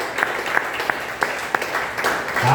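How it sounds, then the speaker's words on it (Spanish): A church congregation applauds as a steady wash of clapping, with a few sharper individual claps standing out at regular intervals, moderately close, with no clear talk over it. "Denle un aplauso al Señor"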